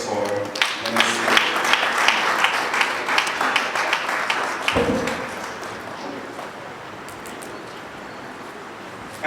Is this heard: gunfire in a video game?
no